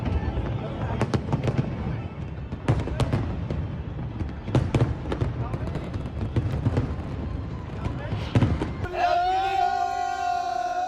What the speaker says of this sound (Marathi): सिंगापूरमध्ये सुद्धा फटाक्यांची प्रचंड आतषबाजी बघायला मिळाली